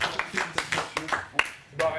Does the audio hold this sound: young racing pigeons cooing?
no